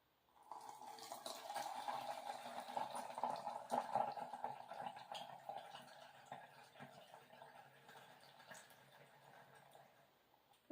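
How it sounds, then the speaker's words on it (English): Homemade soap nut liquid laundry detergent pours steadily through a funnel into a bottle, a soft continuous liquid trickle that fades toward the end. "I'm going to attempt to pour this in here without making a mess"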